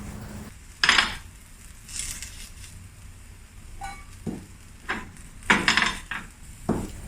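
A spatula clatters and scrapes against a pan while eggplant pan-fries for Thai basil eggplant, several sharp, separate clinks spaced over a quiet, faint background.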